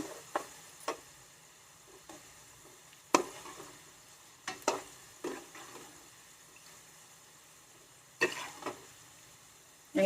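Tomato pieces for pickle frying and being stirred in a pan: a soft continuous sizzle punctuated by several sharp scrapes and knocks of the spoon against the pan, irregularly spaced and close by.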